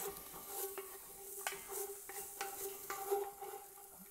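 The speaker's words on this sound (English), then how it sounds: "I'm gonna break up all this browning on the bottom here" Browned bits being scraped off a pan bottom while onions are stirred for burritos: soft, irregular scrapes over a faint, steady sizzle, close and quiet.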